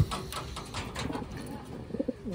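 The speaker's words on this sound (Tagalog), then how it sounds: "Yan yung mga ibon natin." Taiwan racing pigeons cooing softly in a loft, a few low throaty coos near the end over quiet background noise.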